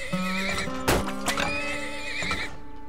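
Horses in the oil-drilling game Turmoil give a loud, wavering whinny with clip-clop hoofbeats and a sharp snort-like burst in the middle, close and clear with no talk.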